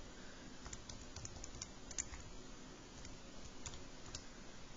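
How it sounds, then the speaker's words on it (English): Numbers being punched into a calculator: a rapid, irregular run of light plastic key clicks, fairly faint and steady over low background noise, with no talking. "Typing that in my calculator."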